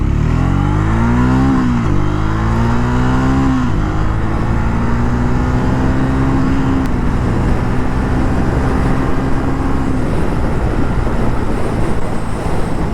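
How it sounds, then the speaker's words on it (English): Triumph Speed T4 motorcycle accelerating hard, the engine note climbing steadily through several gear changes, loud and continuous over steady road and wind noise. "So now let's pull it hard."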